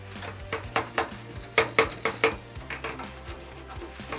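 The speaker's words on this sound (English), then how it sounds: "When it comes to the faucets, I like to go in with a little handheld scrubber brush just so that I could get into the nooks and crannies" A small handheld scrubber brush working over bathtub faucets, quick rhythmic scrubbing strokes with light clattering knocks, close and moderately quiet, over faint background music.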